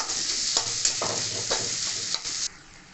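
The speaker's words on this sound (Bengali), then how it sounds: "এটা আমি এবার খুন্তির সাহায্যে এবং ঘুটে ঘুটে মশলা বানিয়ে নেব" A spatula stirs and mashes a spice mixture in a hot pan, producing a steady bright sizzle with several scraping strokes, the frying dropping off near the end.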